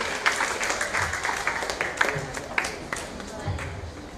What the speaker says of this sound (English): Can we please give them a huge round of applause and congratulate our officers.